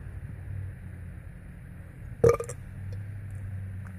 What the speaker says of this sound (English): I had a larger belch than that.